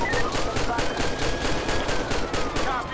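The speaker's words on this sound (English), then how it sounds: "Shots fired, dispatch, shots fired" Rapid, evenly spaced gunshots from a police shootout in GTA V with the LSPDFR mod, a loud sustained burst of automatic fire dominating the scene for several seconds.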